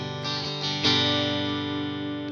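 A Squier Stratocaster played with the middle and bridge pickups combined, heard alone as sustained strummed chords with a few attacks, bright and close.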